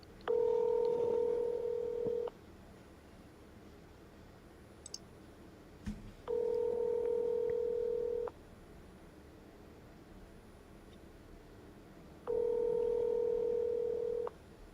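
Three bursts of phone dialing tones on a call, each a steady two-tone beep lasting about two seconds, separated by quiet pauses with faint clicks.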